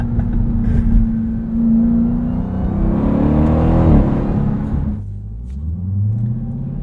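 A 2023 Dodge Durango SRT Hellcat's 6.2-liter supercharged engine revs hard through rising gears, its loud, close roar swelling and climbing before cutting off sharply, then settling into a lower rumble that builds again.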